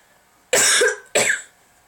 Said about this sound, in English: You'll have to pardon me if I cough every now and again.